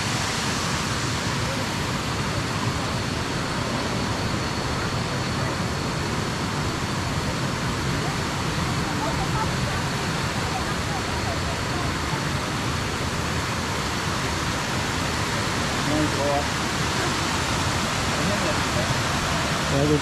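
Kuang Si waterfall in Laos, visited during Lao New Year, gives a constant heavy roar of rushing, splashing water that fills the whole stretch evenly with no break.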